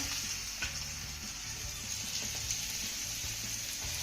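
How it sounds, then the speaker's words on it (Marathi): Garlic potatoes frying on an iron tawa over a low flame, a dense, continuous close sizzle with a crackling hiss that holds steady throughout, no voices. "लो फ्लेम वरती आपल्याला हे पाच मिनिटं एका बाजूने छान असं भाजून घ्यायचं आहे"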